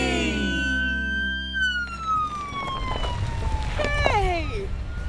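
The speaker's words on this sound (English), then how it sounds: "Look at what I just rode up in! Yeah, it's a police car!" A police car siren wails loudly and close, its pitch sliding slowly downward as the vehicle arrives. Ending in quick sweeping whoops over engine rumble and background noise.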